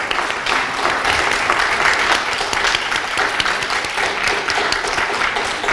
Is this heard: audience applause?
yes